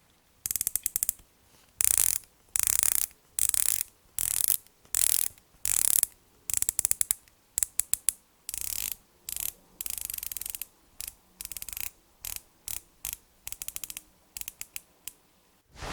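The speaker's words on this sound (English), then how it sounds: "to give you an idea of the sound difference, well, here is how both of them sound" A San Martin watch bezel ratchets round in a rapid series of sharp, close clicks, with short bursts separated by brief pauses and no talking.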